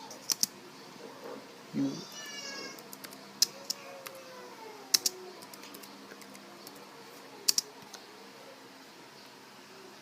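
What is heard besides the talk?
typing on a computer keyboard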